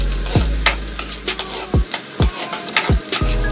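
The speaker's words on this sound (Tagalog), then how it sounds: "So unahin natin ihulog ang ating bawang." Garlic frying in a hot pan for a potato crab omelette, a steady sizzle broken by several sharp clanks of a utensil against the pan, close and loud with no talking.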